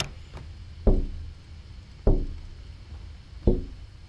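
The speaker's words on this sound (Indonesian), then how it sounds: "itu kayak di jendela nggak sih dia ketoknya?" Three slow, evenly spaced knocks on a window in the horror video game Parasocial, each a sharp, hollow rap about a second apart, clear and fairly close over a quiet, faintly humming background.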